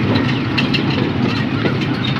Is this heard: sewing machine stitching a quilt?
no